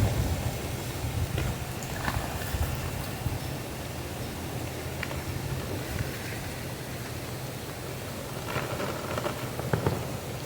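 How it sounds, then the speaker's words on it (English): Rain falling steadily on a hunting ground blind outdoors, a continuous soft hiss with scattered faint patters and no voices. "It's trying to rain on me"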